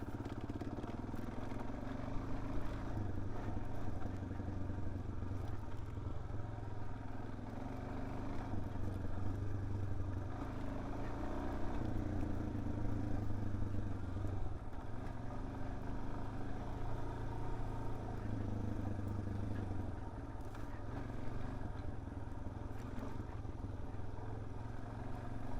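Suzuki DRZ 400S dual-sport motorcycle ridden on a dirt trail, its single-cylinder engine droning steadily and close throughout with mild throttle swells, wind buffeting and light clatter.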